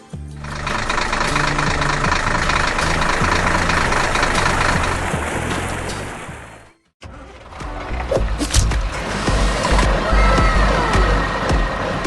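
A red excavator engine in a 3D construction animation, working in a quiet desert: a steady, loud mechanical rumble with a harmonic drone that cuts out briefly near the middle, then resumes with clanking.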